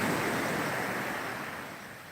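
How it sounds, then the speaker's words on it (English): Ocean waves roll onto a beach in Ghana, a steady broad wash of surf that stays loud and continuous throughout, with no voices. "now I'm over here on the beach looking at the waves come in, listening to the sound of the waves"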